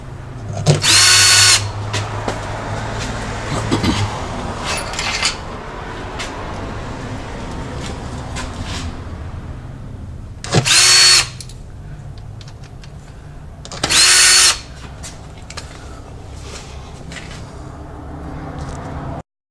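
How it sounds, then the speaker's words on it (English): Three short, loud bursts of a power drill whirring with its clutch backed off very loose, spaced apart, with quieter background hum between them, while servicing a ZF6HP26 automatic transmission pan. "I'll back off the clutch on the drill so it's really loose"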